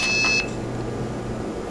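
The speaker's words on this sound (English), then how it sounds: "I'll press the 2600 hertz tone. I'll press key pulse." A PIC 12F683 bluebox sends a loud, steady 2600 hertz tone followed by a short key pulse tone, both clean electronic beeps lasting under half a second before the sound drops to a low background hum.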